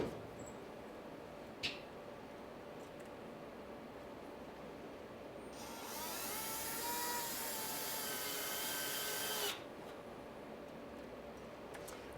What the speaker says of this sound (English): I countersink these holes because I don't want the screw heads protruding and interfering with my boards that go across.